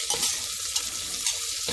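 Onions hit a hot pressure cooker for dhansak and sizzle in soft bursts with stirring, fairly quiet and close, no speech over it.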